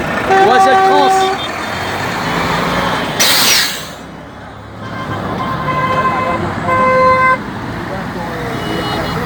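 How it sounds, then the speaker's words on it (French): Car horns honk at a roundabout protest among passing traffic, with several close, loud toots in bursts and a whooshing vehicle between them, while people talk nearby. "mais ça klaxonne"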